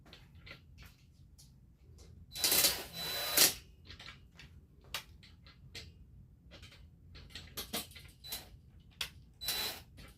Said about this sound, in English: we're going to go around and we're going to start tightening up screws